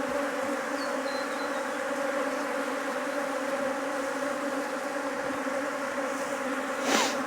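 Bees from a feral, defensive colony in a top bar hive drone in a steady, close, even hum, with a brief louder buzz swelling near the end.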